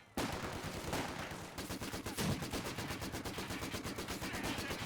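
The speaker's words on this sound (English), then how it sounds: "Mortar is firing away." Mortar fire in a Company of Heroes 2 battle: a dense, rapid run of loud gunfire and thumping blasts that goes on throughout, with no talk.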